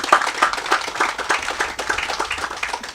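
An audience claps at the opening ceremony of the WASCO water pipeline in Micoud, a modest crowd producing rhythmic, fairly close clapping with distinct individual hand claps pulsing steadily throughout.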